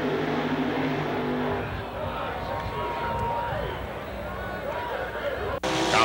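Drag racing cars such as a Dodge Daytona launch down a drag strip in a steady, loud mechanical roar with a crowd faintly underneath, and an announcer talks over most of the run.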